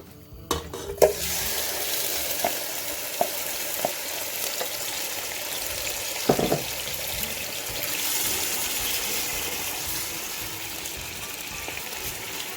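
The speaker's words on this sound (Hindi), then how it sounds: "इसे मैं 10 से 15 मिनट के लिए अच्छी तरह फ्राई करूंगी।" Marinated chicken for tandoori chicken karahi fries in oil in a karahi with a steady, close sizzling hiss, broken by occasional clicks and scrapes of a utensil, with no talking.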